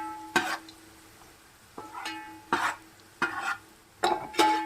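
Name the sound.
onions frying in oil for prawn biryani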